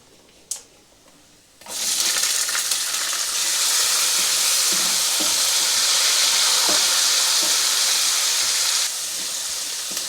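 Onions hit a hot pan already holding curry leaves and cumin, bursting into a loud, steady sizzle after a brief clatter, then hissing on evenly while being stirred, with no talk.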